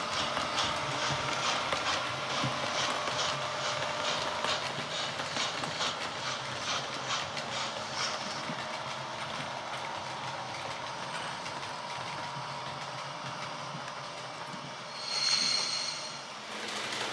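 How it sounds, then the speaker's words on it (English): A Deltic diesel locomotive hauls an up train to London past a junction, the engine's throb and rolling wagons swelling near then fading into a steady rumble, with a brief clatter toward the end. "The Deltic diesel Pinter, pulling an up train to London, passes"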